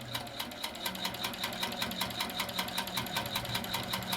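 A sewing machine runs steadily while stitching a scrap piece of fabric to test thread tension, producing a fast, even mechanical clatter of needle strokes with a constant motor hum, close and moderately loud, with no talking.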